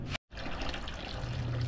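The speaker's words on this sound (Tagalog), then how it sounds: "Mag-ipon lang tayo ng tubig." Water running from a tap into a container in a bathroom under construction, a steady close trickle that resumes after a brief cut and continues alone.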